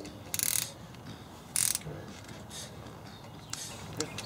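A wrench ratchets as a brake line fitting is tightened on a Jeep JK during a TeraFlex big brake kit install, giving two short bursts of close metallic clicking followed by fainter clicks and handling noise.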